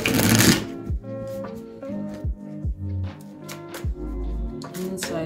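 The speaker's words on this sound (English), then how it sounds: "These cards are very stiff" Stiff tarot cards being shuffled, a loud riffle at the start followed by a run of short slapping and snapping bursts as the deck is cut and handled, close and fairly loud with no talk.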